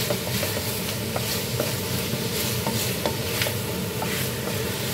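Adobo pork with pineapple juice is stirred in a hot pan, with steady scraping and clinking of the utensil over a continuous close sizzle.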